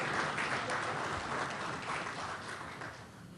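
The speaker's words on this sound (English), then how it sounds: "That deserves another round of applause." A conference audience at a national economic consultation applauds steadily, dense and loud clapping filling the hall without letting up.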